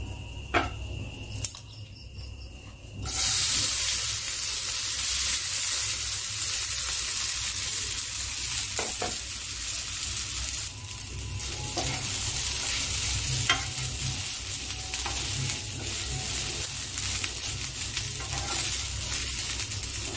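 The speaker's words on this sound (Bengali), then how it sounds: "এটাকে আমি একটু ঘিতে ভেজে নিচ্ছি।" Washed broken wheat (daliya) fries in ghee with a sudden loud sizzle as it hits the pan, then settles into a steady, close frying hiss with faint stirring clicks for the rest of the clip.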